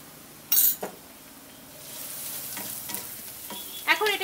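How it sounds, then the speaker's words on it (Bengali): Onions frying in oil with salt and turmeric added, giving a steady crackling sizzle punctuated by spoon-on-pan scrapes and clinks as the mixture is stirred. "পেঁয়াজটা অনেকটাই বেশ ভাজা হয়ে গেছে। এখন দিয়ে দিচ্ছি এর মধ্যে একটু লবণ, স্বাদ মতো লবণ দিয়ে দিলাম, আর দিচ্ছি একটু হলুদ।"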